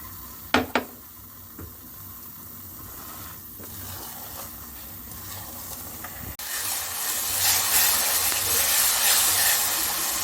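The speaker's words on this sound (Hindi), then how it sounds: "खोया डालेंगे, अच्छी तरह मिक्स करेंगे" Khoya added to separated ghee and stirred for date halwa: a couple of sharp pan knocks at the start, quiet scraping, then a louder steady sizzle as it hits the hot fat.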